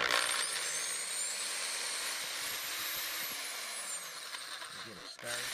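A diamond grit hole saw grinds a hole into a door floor plate, giving a steady, loud, high-pitched whine that runs almost without a break before cutting off near the end.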